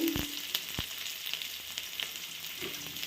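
Onions sautéing in a pan for Andhra-style red chutney with dried and green chillies, a steady close sizzle with a few stirring clinks and scrapes, no voices.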